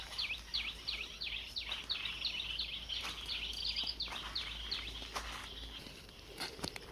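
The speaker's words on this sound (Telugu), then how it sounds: "పక్షులు బాగా అరుస్తున్నాయి ఇక్కడ." Forest birds near a canal give a lively run of repeated high chirping calls, clear and fairly close, with a faint hiss of insects and scattered rustling footsteps beneath.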